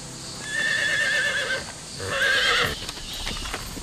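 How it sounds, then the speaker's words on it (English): A horse whinnies twice with shrill, quavering neighs, while hooves clop faintly close by. "Isn't that the horse Cassie was riding"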